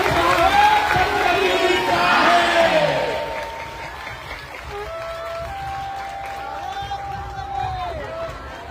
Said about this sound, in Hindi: जोरदार तालियों के साथ आपका बहुत सहयोग करते हैं।